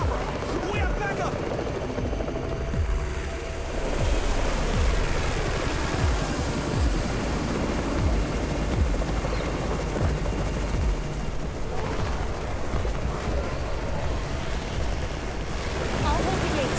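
A helicopter in the video game Garena Undawn, a loud continuous rotor thrum and wind-like rush that holds steady throughout, with no talk over it.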